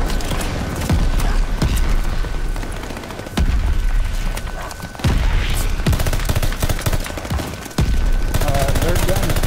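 Gunfire in Call of Duty: Vanguard crackles in loud, dense automatic bursts mixed with heavier booms, running almost continuously with short pauses, and a voice talks underneath.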